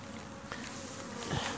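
Hungry honeybees buzz in a soft, continuous drone, a cluster of wings humming close by with slight swells in loudness.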